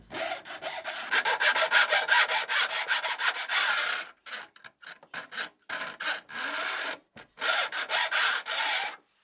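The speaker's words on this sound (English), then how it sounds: "Now we're working on the tatebiki side of the saw. And this is going to be a two-time filing process." Metal file rasping across the teeth of an old Japanese ryoba pull saw, rapid rhythmic back-and-forth strokes in close bursts separated by short pauses.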